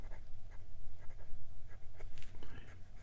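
Steel medium nib, size 6, on a Pininfarina PF2 fountain pen scratching across Clairefontaine 90 gsm paper, giving soft scritchy strokes in short bursts over a quiet low hum.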